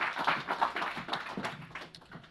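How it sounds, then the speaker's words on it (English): Audience applause in a university panel-discussion setting, a steady wash of many hands clapping at moderate distance, fairly quiet and continuous without voices, fading slightly toward the end. "Give her another round of applause, please"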